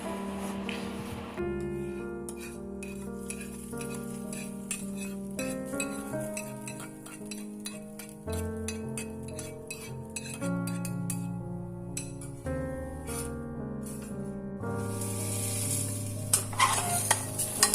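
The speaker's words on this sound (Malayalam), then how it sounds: "നന്നായിട്ട് യോജിപ്പിച്ചെടുക്കണം." Fried tempering with curry leaves is stirred into rice for lemon rice, bringing close spoon scrapes and clinks against the vessel over a soft background, with no talking.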